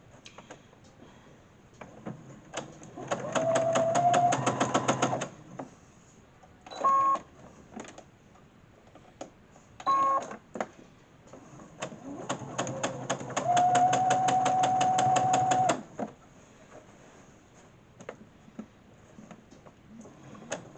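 A domestic sewing machine runs in several bursts of rapid, steady stitching, stopping and restarting as the final row is sewn onto a quilt; close and fairly loud, with no talking.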